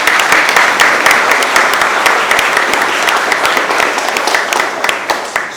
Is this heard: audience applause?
yes